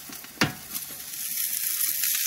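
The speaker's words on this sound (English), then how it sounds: "Here's the barbecue. We've already started it." Food sizzles on a barbecue at a campsite in Rathtrevor, Parksville, a steady close hiss with one sharp clatter near the start.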